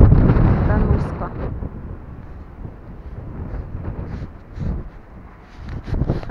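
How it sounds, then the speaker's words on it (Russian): Strong storm wind gusts over an outdoor microphone, a loud low roaring rumble that swells and eases in uneven waves, strongest at the start and picking up again near the end. "Короче, такое ветрюганище, что просто трындец."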